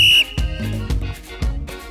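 A whistle blown in a noisy classroom-style scene: one long, shrill blast up front, followed by rhythmic thumping beats and shorter higher tones.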